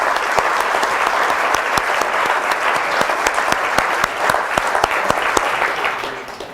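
An audience claps steadily, a dense, loud patter of many hands that keeps going throughout and fades slightly at the end.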